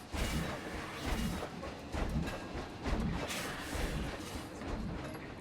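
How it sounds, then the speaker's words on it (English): A train passes by in the distance, a steady low rumble with rhythmic clacking surges of wheels over rail joints, fairly faint and without talk. "I had to let the train go by real quick"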